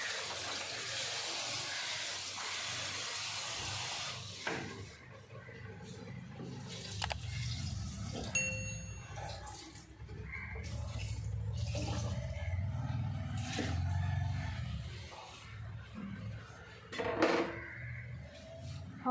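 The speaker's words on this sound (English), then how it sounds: "இதுக்கு தண்ணி வைக்கணும். தண்ணி ஊற்றிக்கலாம்." Water poured onto samba rice in a small cooker pot for homemade biryani rice, a broad steady hiss and splash running close and fairly loud through the first few seconds, then giving way to quieter clatter and handling.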